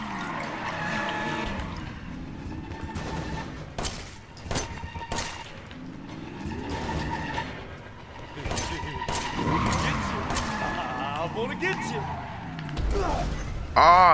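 A car in Resident Evil 7 drives hard with repeated tire skids and squeals over a rumbling engine, punctuated by scraping and thuds, while a voice speaks at times over the driving noise.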